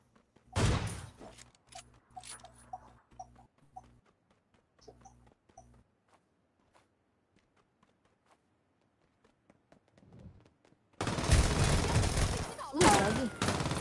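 Video game gunfire, with a scatter of sharp shots at the start, sparse pops through the middle and a dense loud burst near the end, alongside faint game sounds.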